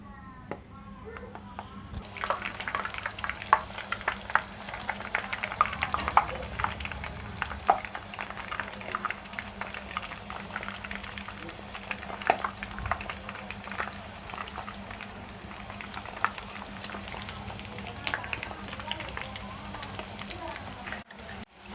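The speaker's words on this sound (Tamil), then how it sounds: "இப்போ வாங்க பொரித்து எடுத்துக்கலாம்" Wheat flour chips fry in hot oil, giving a steady, dense crackle and sizzle that runs the whole time with a few faint clinks mixed in, and a voice speaks briefly at the start.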